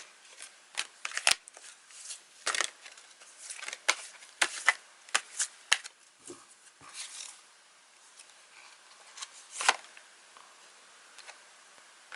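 Tarot cards shuffled by hand at close range, a run of crisp riffling bursts and soft slaps in an irregular rhythm, alone without talk.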